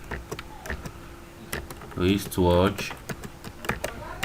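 Product tags being typed on a computer keyboard: sparse, close key clicks spread through the clip, with a brief louder mechanical whirring burst partway through.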